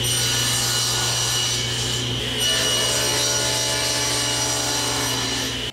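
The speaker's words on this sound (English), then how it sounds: "now it's time to cut these panels to both length and width" A power saw runs steadily and loudly while cutting a plywood panel to length and width in a woodworking shop, a continuous close whine without talking.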